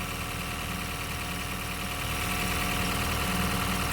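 A Honda Shuttle car engine idles steadily and fairly loudly, with a faint rattling, whirring noise from a noisy clutch basket running underneath the hum and no voices.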